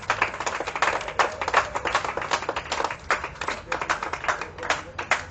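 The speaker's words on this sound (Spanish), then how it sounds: "Dale un aplauso bien fuerte a ese rey maravilloso." A church congregation claps in quick, uneven bursts of many hands at once, moderately loud and sustained for several seconds with no clear speech over it.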